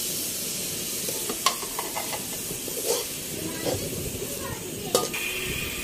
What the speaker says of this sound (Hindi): अब इसके अंदर मैंने ये ग्राइंड किया हुआ प्याज डालना है।